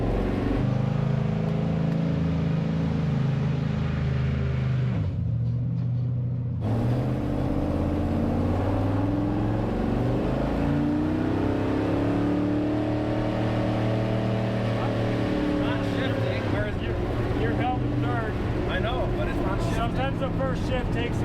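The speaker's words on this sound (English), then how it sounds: "Okay, this transmission was just rebuilt, so we got to get it working through all the gears." The big engine of the world's largest off-road wrecker, with a freshly rebuilt transmission, runs steadily with a loud, low drone, its pitch rising and falling as gears shift, while people talk over it throughout.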